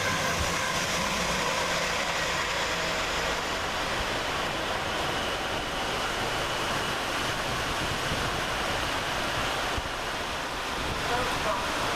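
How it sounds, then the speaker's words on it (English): Class 222 unit 222010 running past Luton railway station toward Sheffield, a broad continuous rush of wheels and air noise that stays loud and close for the full pass. "going in the opposite direction is 222010, with 1 Foxtrot 47 from London St Pancras International to Sheffield"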